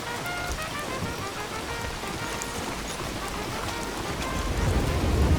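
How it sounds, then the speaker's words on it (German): Rain pours in Red Dead Redemption 2, a continuous, dense patter on the ground that stays steady throughout and swells slightly near the end, with no talk over it. "Wegen Regen, oder?"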